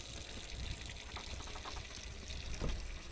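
In Untitled Goose Game, water runs from a tap as a faint, continuous trickling hiss with small splashy flickers, quiet and alone throughout.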